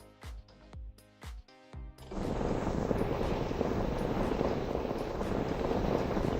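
A few sharp knocks come first, then a plane in the Minecraft game roars in as a steady, loud, wide whooshing drone that holds to the end.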